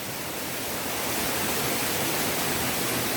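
Waterfall beside the towering Iljuam rock on a trail of the Nosan Eight Scenic Views, roughly 10 to 20 meters tall; a steady, dense roar of falling water, loud and unbroken throughout with no voices.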